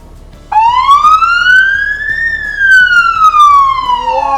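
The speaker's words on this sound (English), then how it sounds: "So to turn the lights and sirens on, you're just going to press the red alert button." Police car siren switched on, a loud close electronic wail rising steadily in pitch, then falling, with no voices over it.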